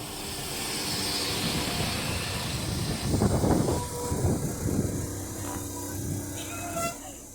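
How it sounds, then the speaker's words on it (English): A Class 172 diesel multiple unit passes a suburban station with a steady rumble and hiss that swells to a louder, rattling peak midway, then eases off into a faint whine. "The first actual train that we're seeing here is a diesel. It's a Class 172 multiple unit"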